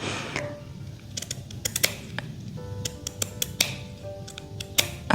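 Small scissors snip through the stitching of a jumpsuit hem, a series of sharp, close clicks and ticks coming in irregular bursts against a quiet background.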